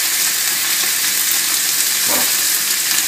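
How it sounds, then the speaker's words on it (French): Roast beef sears in a hot pan, giving a dense, continuous close sizzle with a brief stir or shift partway through. "C'est juste de le saisir, de l'assécher un petit peu en surface."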